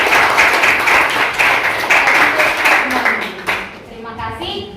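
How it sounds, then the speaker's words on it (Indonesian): Classmates in an Indonesian classroom session applaud together, a steady wash of hand clapping for about three and a half seconds that fades into voices. "Gue memberikan aplaus kepada teman-teman."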